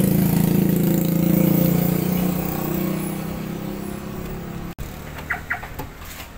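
A 2008 Toyota Avanza with automatic transmission idles steadily with a low engine hum, fading slightly before a sharp click and a few faint chirps at the end.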